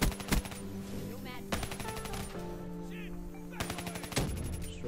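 Gunfire in Black Ops 3 multiplayer crackles in repeated automatic bursts, sharp rapid shots in several clusters over a steady background of in-game noise, fairly quiet overall.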